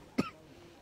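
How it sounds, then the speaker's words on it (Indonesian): One brief, close cough from a speaker who has had a cough for a week, standing out sharply before the room settles back to quiet. "maaf saya batuk ya Bapak Ibu sudah 1 minggu ini."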